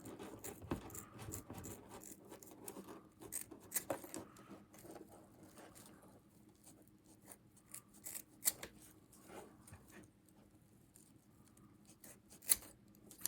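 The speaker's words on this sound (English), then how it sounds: "I'm just going to go ahead and snip them off" Scissors snip off excess strands of rope at an eye splice: a series of faint, crisp cutting clicks at irregular intervals, close and quiet, with one sharper snip near the end.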